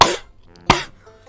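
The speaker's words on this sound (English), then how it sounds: "Just about to cough." Two sharp, close coughs come about half a second apart, each dropping off quickly into quiet.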